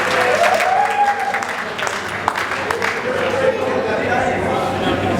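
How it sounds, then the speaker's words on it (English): An audience claps in applause at a community gathering welcoming a new executive committee on the Sunshine Coast, Queensland, a fairly loud and sustained patter of many hands mixed with crowd chatter and voices. "Can we have one large round of applause for them and their ongoing commitment to the Aureus community?"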